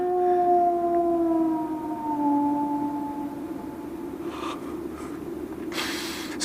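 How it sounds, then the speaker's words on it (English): A hound's eerie howl drifts across the moor in a radio drama, a long drawn-out wail that wavers and gradually fades, followed by soft rustling and a burst of breathy noise. "They say it's the cry of the Hound of the Baskervilles."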